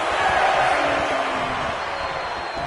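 A wrestling arena crowd cheers in a dense, loud, continuous roar, with a faint voice or two mixed into the sustained noise.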